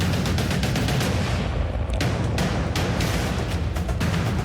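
Cannons fire in a Battle of Monmouth 1778 game, a rapid series of sharp booms and cracks repeating close by over a constant loud battlefield din.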